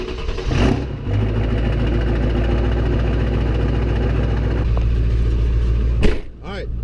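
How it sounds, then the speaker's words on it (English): A Ford Powerstroke truck engine cranks and fires, then settles into a loud, steady diesel idle with a deep rumble, close to the listener, with a brief clunk near the end. "let's give you guys a nice cold start on the truck"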